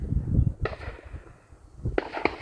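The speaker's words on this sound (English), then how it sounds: "they're shooting again now" Distant gunshots from people shooting nearby in the open UK countryside, a few sharp reports at different moments, faint and far off amid outdoor background noise.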